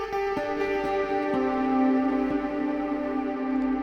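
A guitar melody double-tracked and panned left and right, drenched in heavy reverb with a wide, washy tail, sustained tones ringing steadily for the whole span with no talking, set in a deep house and minimal techno production.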